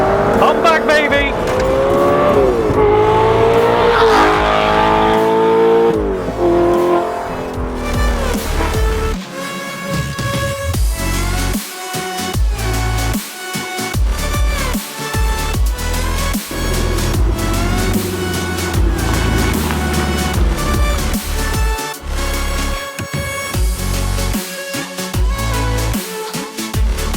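Loud, modified Audi R8 with an aggressive non-standard exhaust, its engine revving and rising in pitch, then settling into throbbing, sharp bursts mixed with music, close and dominant throughout.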